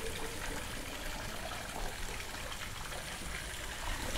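Water flows through a forest in the Pyrenees with a soft, even rushing and trickling. It stays faint and constant throughout, and no voices are heard.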